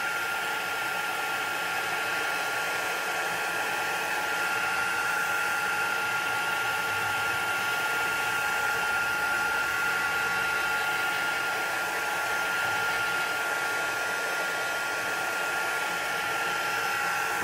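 A heat tool blows steadily to dry freshly stamped VersaFine ink on a cardmaking stamp image, a constant loud whooshing drone with no pauses.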